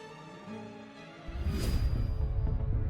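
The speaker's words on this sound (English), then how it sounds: "And this is the sound of a solar storm crashing into our atmosphere." A recorded solar storm striking the atmosphere: eerie whistling tones, then a sudden swelling roar with a bright swishing burst, loud and continuous to the end, no voices.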